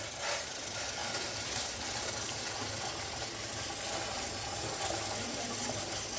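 Steady bubbling and rushing noise of water boiling in a pot for cooking banana flower, continuous and fairly close, with a low churning rumble underneath and no talking.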